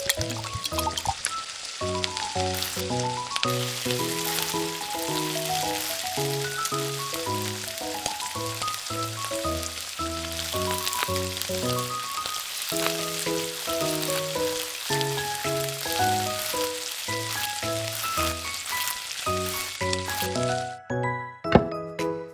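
Cooking oil frying food for miniature Korean street-food dishes such as fried chicken, a steady hissing sizzle running under loud, continuous background music.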